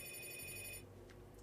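A mobile phone rings during a Vampire: the Masquerade tabletop role-playing session, giving a short, faint electronic ringing tone that cuts off partway through the clip.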